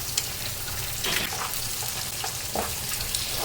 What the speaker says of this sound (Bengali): এখন ডিম ভেঙে দিচ্ছি